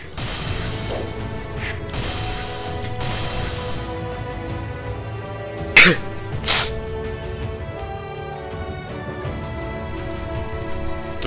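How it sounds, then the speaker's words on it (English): Two sharp, loud bursts in quick succession break through a steady hum of background noise, consistent with a sudden sneeze close to the microphone. "Sorry about that, had to sneeze."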